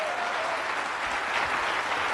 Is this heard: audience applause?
yes